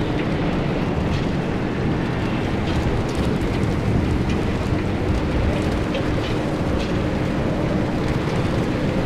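A raging storm in the video game Pacific Drive: a continuous loud roar of heavy rain and wind with a deep rumbling undertone, steady throughout and without distinct thunderclaps standing out.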